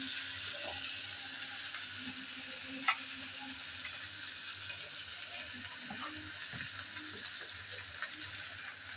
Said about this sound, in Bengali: তারপরে তেলটা গরম হয়েছে, এখন মাছটা ফ্রাই করবো।